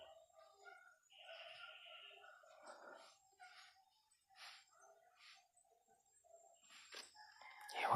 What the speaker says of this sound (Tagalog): Parang may mga boses ng aso sa ibabaw.